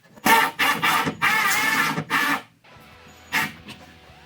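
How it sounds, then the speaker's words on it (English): A screw being driven into a plastic drywall anchor in a wall, with close bursts of drill whirring broken by short pauses, then quieter, later bursts. "let's see how this wall anchor expands when we install a screw into it"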